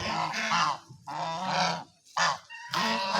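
Geese honking and calling in loud, close bursts, several overlapping blasts with short pauses between them, no talking.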